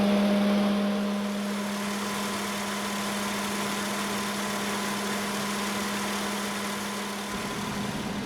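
A Honda Pilot idles during air-conditioning troubleshooting, giving a steady, even engine hum with a constant low drone throughout. Near the end the tone shifts slightly as if the engine is shutting down.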